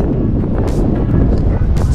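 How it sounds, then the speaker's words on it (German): Rough wind blowing across a bare, rocky Scottish landscape near water, a loud close buffeting rush on the microphone with short gusty hiss bursts. "Ja, diese raue Stimmung, der Wind."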